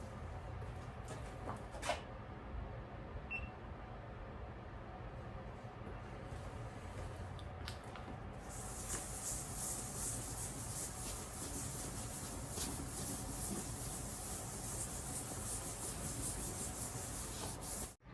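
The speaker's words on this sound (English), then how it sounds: "And we're going to start polishing." Polishing compound is worked by hand over a motorcycle gas tank, giving a faint, steady rubbing swish that continues throughout and brightens into a sustained hiss in the second half.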